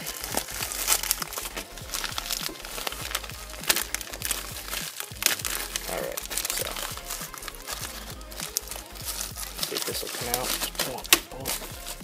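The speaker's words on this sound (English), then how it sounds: "so I'm just going to go ahead and rip this open" A LEGO parts mail package being torn open by hand: continuous loud crinkling and ripping of packaging, close and busy, with a voice talking briefly.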